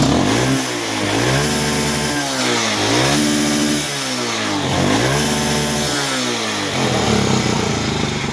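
A Chinese chopper motorcycle engine, running after eight months of standing idle, revs up and down in repeated loud surges close by, roughly every second and a half, with no talking.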